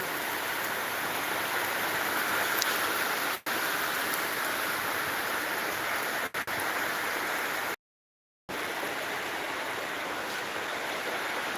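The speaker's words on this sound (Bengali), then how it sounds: "দেখতেই পাচ্ছ কি পরিমাণে বৃষ্টিটা হচ্ছে আমাদের এদিকে" Heavy rain pours down in a steady, dense hiss that continues unbroken for the whole stretch, with only a couple of brief dropouts, even and fairly loud.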